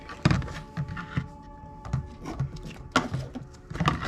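Sanding with 80 grit sandpaper on a spot of an RC car where a GPS unit will be mounted, short rhythmic rubbing strokes, close and moderately loud, repeated about every half second.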